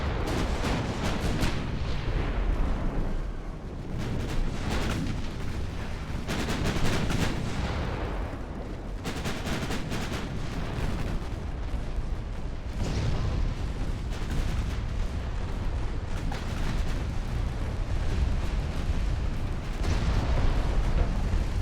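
Naval gunfire in Ultimate Admiral: Dreadnoughts: heavy ship guns boom again and again in dense, overlapping salvos, loud and steady throughout with rumbling impacts and no clear speech.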